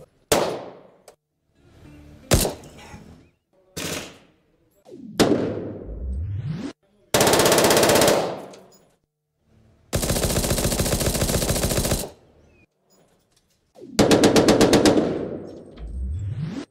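A compact PDW rifle with a two-stage trigger and a Night Force optic fires at a shooting range. Several close, loud bursts of full-automatic fire, some long and rattling, are separated by quieter clanks and short pauses.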